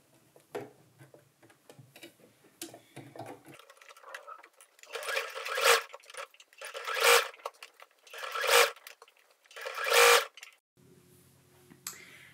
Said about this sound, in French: Et de le piquer du coup sur l'endroit à l'intérieur de votre tube.